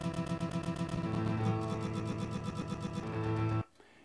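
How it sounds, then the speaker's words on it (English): A chord plays back from the timeline in Capo music software, a sustained tone with a fluttering, repeating texture that cuts off abruptly near the end, fairly quiet with no talking. "play the chord by holding my mouse down on the timeline"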